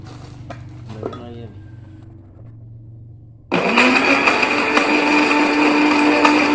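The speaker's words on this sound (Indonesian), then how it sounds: "put 2 spoonfuls of sugar into the blender and turn on the blender 15 seconds" Small clinks and spoon taps on a blender come first, then a blender holding two spoonfuls of sugar starts abruptly and runs with a loud, steady whirring grind to the end.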